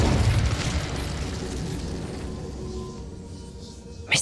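A fire spell cast in the Nintendo Switch version of Hogwarts Legacy: a loud, broad whooshing burst of flame that roars at the start and fades over several seconds, ending with a sharp crackle.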